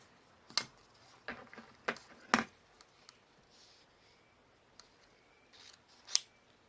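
Scissors snipping ribbon pieces for a bow on a pink baby elephant baby shower rattle pin, a handful of sharp, close clicks and snips spaced irregularly over quiet background, with no voices.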